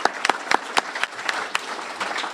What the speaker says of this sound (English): So just one more round of applause for our amazing K-Kids